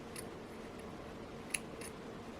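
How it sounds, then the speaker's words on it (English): Scissors snipping the end of a jewelry thread after crimping, a few faint, quick metallic clicks against quiet background, one sharper cut standing out. "I will cut with the scissors"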